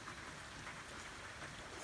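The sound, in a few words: rain falling outdoors on a workbench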